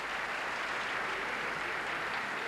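Applause at a League of Nations assembly, steady dense clapping from a large crowd throughout, even and unbroken, slightly muffled like an old recording.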